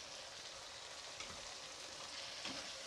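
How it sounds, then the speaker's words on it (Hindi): Irani chicken karahi, with ginger, coriander and crushed black pepper, sizzles and fries steadily in the pan, a continuous close hiss with a couple of faint stirring scrapes. "1 से 2 मिनट तक और भूनेंगे।"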